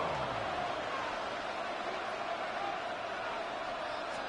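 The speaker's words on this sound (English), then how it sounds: "this crowd making it hard to hear." Stadium crowd noise fills a football video game, a constant, even roar that stays level from start to finish without distinct cheers.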